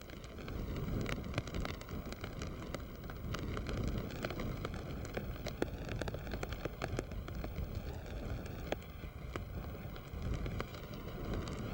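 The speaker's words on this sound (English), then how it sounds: "the rain was falling steadily." Steady rain falls at Burmarsh Road on a miniature railway line, a dense, even patter with scattered sharper drops and no voices.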